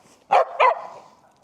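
A reactive dog on a leashed walk gives two sharp, close barks in quick succession, followed by a short fading tail and then quiet.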